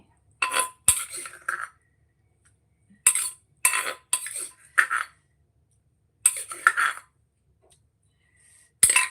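Spicy green papaya salad (som tam) being pounded in a mortar, heard as several separate clusters of sharp knocks and clinks with a short rhythmic flurry in each group and silent gaps between the groups.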